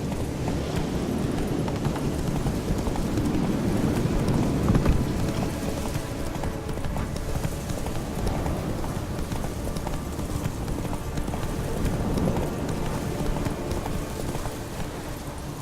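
Roach, a horse in The Witcher 3, gallops with a steady rush of hoofbeats mixed into a rumbling, wind-like roar. The sound is loud and continuous and stays even throughout.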